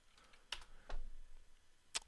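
Computer keyboard typing, a few faint, close key clicks spread over a couple of seconds in a quiet room.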